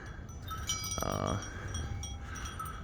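Sheep gathered at feeding buckets, with one loud nearby bleat rising over a quiet, steady farmyard background of low rustling and distant animal sounds.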